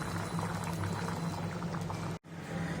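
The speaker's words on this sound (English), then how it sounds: "So we have boiling water over here." Water boils in a pot, ready for rice, giving a close, continuous bubbling and simmering sound with one brief dropout near the end.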